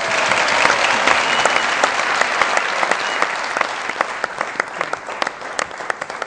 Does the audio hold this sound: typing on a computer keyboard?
no